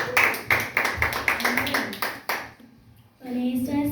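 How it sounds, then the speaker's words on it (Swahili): Church congregation clapping in rhythmic bursts, roughly twice per second, up close and loud, then a brief pause before voices take over. "Makofi jamani."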